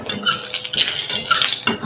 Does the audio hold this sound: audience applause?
no